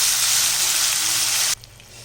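Lemon juice goes into hot podi lemon rice in a pan, setting off a loud, close sizzling hiss that lasts about a second and a half before cutting off abruptly.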